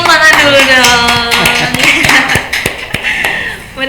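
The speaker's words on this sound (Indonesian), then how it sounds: "Beri tepuk tangan dulu dong." A studio audience applauds during an Indonesian education talk show, with quick scattered claps and taps running under a loud host voice that carries over the top.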